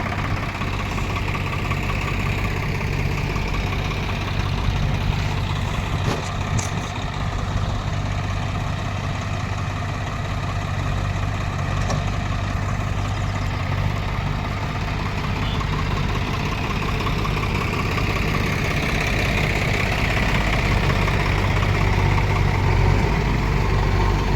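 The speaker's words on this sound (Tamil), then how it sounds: "வண்டி அதிகம் இப்போ நாங்கள் வந்து ரன்னிங்கில் ஆஃப் பண்ணுறது இல்லை ப்ரோ, ரன்னிங்லேயே விட்டுறது." A JCB 3DX backhoe and tractors idling at a soil-shifting site, a steady low diesel rumble with a slight knock running throughout, no voices.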